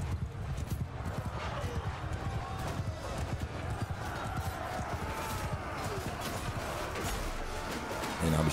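Horses gallop through a battle in Mount and Blade II: Bannerlord, a dense rumbling churn of hoofbeats and clashing noise under continuous talk.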